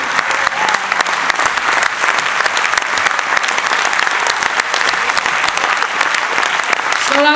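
Audience applause at a children's dance performance with a live singer: dense, steady clapping from a crowd, loud and continuous throughout.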